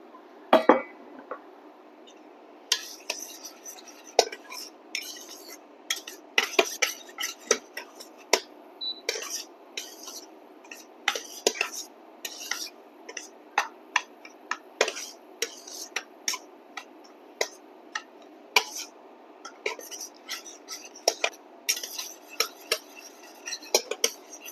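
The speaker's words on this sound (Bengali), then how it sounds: "এবার আমি সুজিগুলা দিয়ে দিব, দিয়ে লো আঁচে এটা ভেজে নিব" Semolina dry-roasting over low heat for a halwa barfi, stirred in a pan with a metal spoon that clinks and scrapes against the pan in irregular bursts, close by and with no voices.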